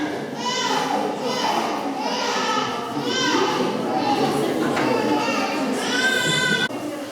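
A baby babbles and whines in repeated rising cries over a busy echoing background of chatter in a metro tunnel station, the infant's voice clear and fairly close.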